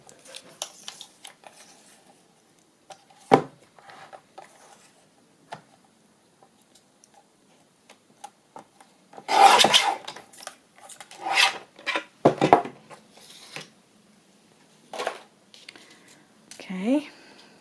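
Paper being trimmed for the cover of a bird journal: a few sharp snips and soft scraping rustles come in scattered bursts, close and fairly quiet, with a voice murmuring between them.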